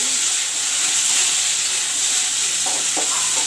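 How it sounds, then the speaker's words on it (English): Chopped tomatoes fry in a pan for a moong dal and kundru bhaja dish, giving a steady broadband sizzle and hiss close by, with a few soft stirring knocks near the end and no talk. "Now the chopped tomatoes, the cut up tomatoes I will put in. I will let this also fry."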